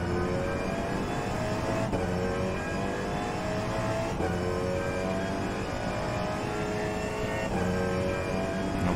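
A race car engine in the rFactor 2 racing game runs steadily through a rain race, a continuous loud drone with the throttle held light and shifting engine pitch, carrying on without pause and with no voices.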